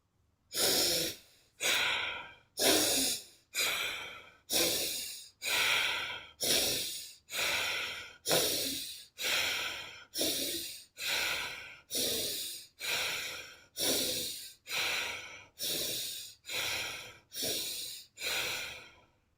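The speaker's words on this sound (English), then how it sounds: "let's start with the first cycle of Bastrika. Inhale and exhale in an intense way." Bhastrika yoga breathing in a live class: about seventeen forceful, evenly paced breaths, each a loud rushing inhale-exhale burst separated by short pauses, close and steady throughout with no talking.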